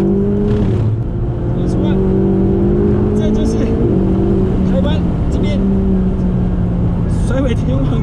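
Ferrari 488 GTB with a 670-horsepower engine accelerating hard on a race track, engine tones climbing and shifting in repeated pulls, loud and close, with someone talking over the roar.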